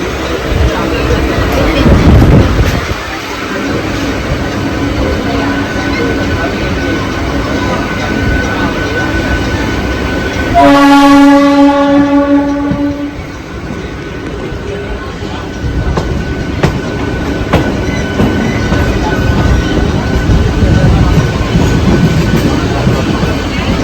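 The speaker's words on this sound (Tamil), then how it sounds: "இந்த ட்ரெயின் வந்து எலக்ட்ரிக் ட்ரெயின்" An electric train on the Sengkottai Express service rumbles and clatters along the rails under steady noise, with a brief high squealing whine partway through as it moves off.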